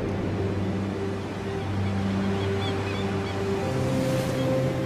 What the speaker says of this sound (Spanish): Es el mar.